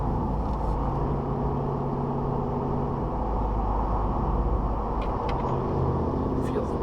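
The huge tires of a 2021 RAM 1500 TRX pickup work through curves with a steady, low road-and-tire rumble heard from inside the cab, continuous and even, with a voice present.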